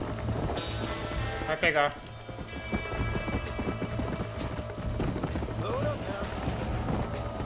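Horse hooves clip-clop in a quick galloping rhythm in Red Dead Redemption on Xbox Series S, with a whinny, faint thunder and rain behind, and a person speaking over it.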